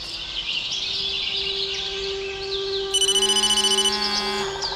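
Telephone ringing in the horror game Blair Witch VR: a quiet, steady tone with faint chirps gives way partway through to a bright, fast-pulsing electronic ring that trills for about a second, then stops.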